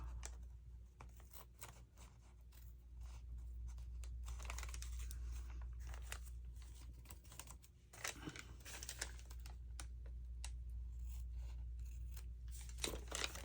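Scissors trim a paper bow with a run of quick, crisp snips and paper rustles, close and quiet against a steady low hum.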